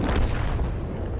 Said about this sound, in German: Weil jetzt hat sich gerade eben ein Schuss gelöst.